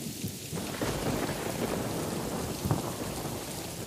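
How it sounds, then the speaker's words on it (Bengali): Heavy rain pours in a dense, steady roar while low rumbles of thunder roll underneath, a continuous stormy night ambience without voices. "বৃষ্টিটা আরও জোরে পড়তে শুরু করলো, আর তার সাথে হাওয়াও জোরে বইতে শুরু করলো"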